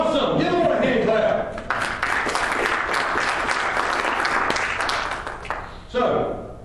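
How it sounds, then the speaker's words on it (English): A church congregation claps and applauds during a Sunday service, a full burst of hand clapping that rises after some talk and tapers off, with voices heard around it. "Give the Lord a hand clap."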